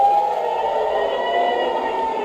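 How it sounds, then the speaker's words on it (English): Air raid sirens wail over Tel Aviv, a steady, sustained tone that holds at an even level throughout with no voices. "Air raid sirens screaming through Tel Aviv"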